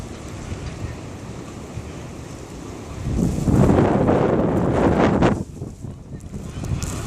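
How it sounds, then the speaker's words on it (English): Strong blizzard wind blows snow outside a campus dining hall, a broad roaring rush that swells into a loud buffeting gust at mid-clip and then eases off, with wind battering the microphone. "There's a good shot of wind right there."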